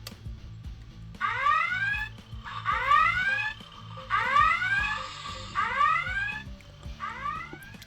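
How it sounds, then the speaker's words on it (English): An electronic red alert alarm from a Star Trek USS Enterprise toy starship whoops in repeated rising sweeps, five bursts about every one and a half seconds, over a low steady hum, then fades. "So we have a red alert, which just kind of fades away"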